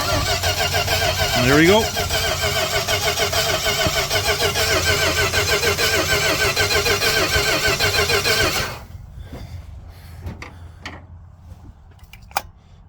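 Carbureted car engine cranked over with the ignition off: a loud, steady, rhythmic churning of the starter that runs about eight seconds, then cuts off, leaving faint clicks and someone speaking briefly.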